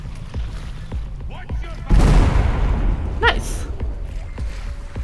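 A detonation in the VR game Phantom: Covert Ops: a deep, loud boom hits suddenly and rolls on as a long rumbling roar, with a high whistling tone over it and game noise around it.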